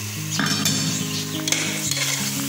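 Spices and rock salt being sautéed in a pan for chicken biryani, with a close sizzle and brisk spoon scrapes and metallic clinks against the pot, no talking.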